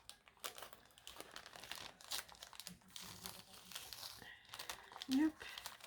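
A paper pouch sealed with glitter washi tape is opened with close crinkling, rustling and tearing sounds in short bursts, while someone speaks softly in French.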